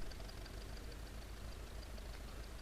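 Old tractor engine idles with a steady low rumble and faint knocking, moderately distant and quiet for the short stretch.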